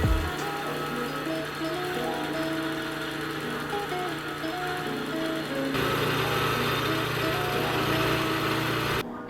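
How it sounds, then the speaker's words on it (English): A cloth buffing wheel loaded with high-grit buffing compound polishes a steel paring knife blade, giving a steady motor hum with a constant whine and a rougher grinding texture that swells partway through, then stops. "This is really high grit that I put on this cloth wheel, and that'll polish the blade."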